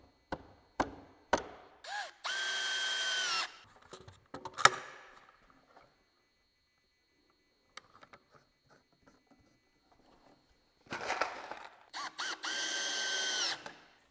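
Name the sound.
power drill screwing shelf in tool trailer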